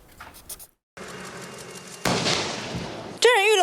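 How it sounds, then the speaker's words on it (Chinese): A sharp, loud blast from an M1A2T tank's cannon bursts out after a brief silence during live-fire drills, followed by a rumbling roar and a high whining tone near the end. "我国接装的 M1A2T 战车7月10号首次展现实弹射击给国人看"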